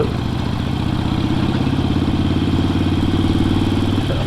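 A Harley-Davidson motorcycle engine idles loudly close by, a steady low throbbing chug with rhythmic clatter throughout.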